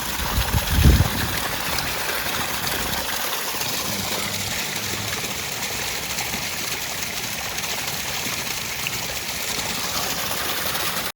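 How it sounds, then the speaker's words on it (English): A pond waterfall pours in a continuous, close splashing rush that holds steady throughout, with a brief thump near the start. "There's the waterfall."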